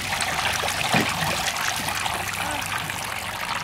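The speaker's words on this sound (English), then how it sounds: "Are you splashing?" A young child plays with a water toy, making trickling, splashing water sounds that run continuously at close range with small bursts of sloshing.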